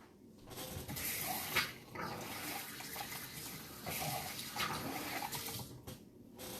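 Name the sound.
washing hands under running tap water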